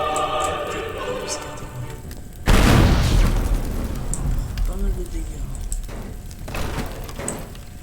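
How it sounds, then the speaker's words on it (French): A grenade explodes in Teardown with a sudden heavy boom, followed by a long crackling, rattling wash of debris and crumbling that slowly fades, loud and close. "Après on peut balancer plein de grenades."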